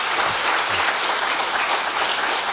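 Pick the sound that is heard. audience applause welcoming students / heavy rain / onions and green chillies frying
audience applause welcoming students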